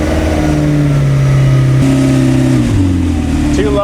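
A McLaren sports car engine revs in strong, loud pulls with sudden shifts in pitch and a throaty roar, close by, with speech also detected.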